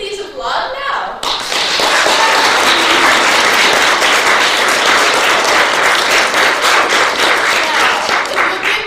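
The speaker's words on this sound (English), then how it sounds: "If you think the defendant is innocent, please applaud now." A teen theater audience bursts into loud, sustained applause after a brief voice, a dense roar of clapping that holds steady for several seconds.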